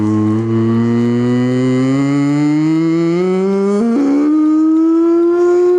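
A loud wailing siren holds steady, then slowly climbs in pitch, with a sudden jump near the end, sounding alone and close.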